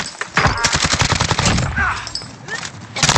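Rapid bursts of automatic gunfire crackle in the shooter game Warzone, close and loud with several quick volleys and a short pause before firing resumes.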